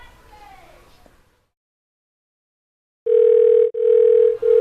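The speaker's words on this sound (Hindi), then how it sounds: "ये हमरे मोबाइल केना घंटी बोल" A mobile phone gives off a loud, steady electronic ringtone note that starts after a brief stretch of speech and silence, with two short breaks in the tone.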